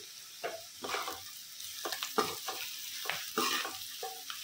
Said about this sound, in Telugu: మనం ఆల్రెడీ వేపు పెట్టుకున్న కాకరకాయ ముక్కలు వేసేద్దామండి